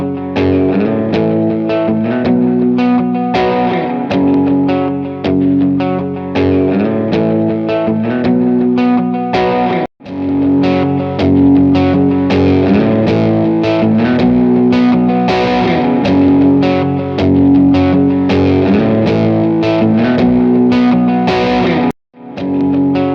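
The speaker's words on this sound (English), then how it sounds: "just so that you could hear how it sounds if you're just running a guitar straight into it or if you're running a full rig through it" An electric guitar played through a Phenyx Pro PTG-11 wireless guitar system, heard loud and close with effects and distortion, sustained chords and riffs running continuously with two brief dropouts.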